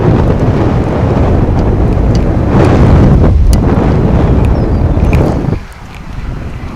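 Strong gusts buffet the microphone outdoors at DFW Airport, a loud, continuous rumbling roar that eases near the end, with no speech.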